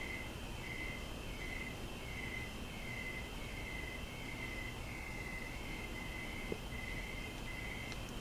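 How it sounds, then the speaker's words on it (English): Crickets chirping outdoors in the evening, a faint, steady series of regular pulsed trills repeating about twice a second over quiet background hiss, distant and alone. "So here I have crickets."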